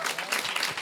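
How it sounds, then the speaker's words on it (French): Live audience at an interview event claps in a dense, steady burst of applause, close and fairly loud, with no voices over it. "on peut quand même les applaudir"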